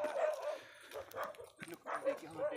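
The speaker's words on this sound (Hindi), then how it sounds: "देखो वो भौंक रहे हैं।" Two young dogs bark repeatedly in quick, close yaps and yips, with a short lull midway and voices talking nearby.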